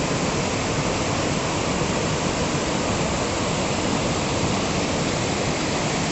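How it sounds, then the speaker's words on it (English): Kuske Waterfall in Canacona, South Goa, India, pouring and splashing as a loud, steady, dense rush of water, close and continuous with no other sounds. "enjoy this waterfall, enjoy that splash"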